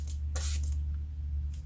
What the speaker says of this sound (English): And then I'm going to spray and let it run